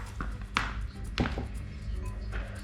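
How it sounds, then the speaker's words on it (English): A knife chops through peppers on a cutting board in a few sharp, close thunks spaced irregularly, with light handling noise between cuts. "So, chop them in half."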